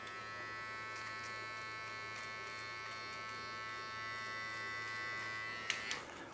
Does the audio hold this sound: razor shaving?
yes